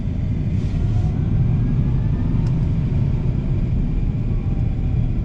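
A 2025 Tesla Cybertruck drives along a road with a steady low electric-motor hum and road rumble, a continuous tram-like drone heard from inside the cab at a constant level.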